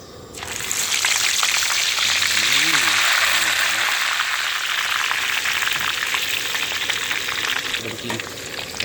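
Sun-dried goat meat frying in hot oil, a loud, dense, continuous sizzle and crackle that holds steady throughout, with a brief voice underneath.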